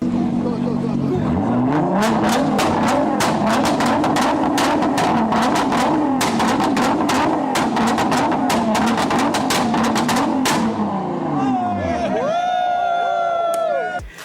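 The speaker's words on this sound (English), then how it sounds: "I'm gonna put a little video clip of a GTR sound." A loud Nissan GT-R engine revs hard through the gears with crackling pops, then settles into a high idle whine near the end; crowd noise faintly underneath.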